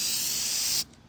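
Spray paint can misting a piece of furniture, one steady close hiss of aerosol lasting under a second, then cutting off abruptly into near silence.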